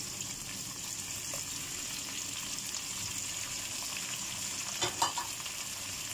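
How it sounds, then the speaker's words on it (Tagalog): Tomatoes being added to a pan of frying fish for a Filipino sarsiado with egg. A steady, close sizzle and crackle runs throughout, with a brief louder spatter near the end. "Tapos ilagyan natin ang ating kamatis."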